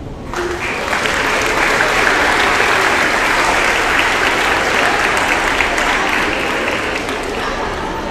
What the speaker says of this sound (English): let's give a nice round of applause to all these students